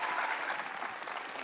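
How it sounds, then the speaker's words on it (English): Dense applause from a livestreamed tech presentation audience, steady and fairly even throughout, tapering slightly near the end with no voices over it. "let's give them another round of applause"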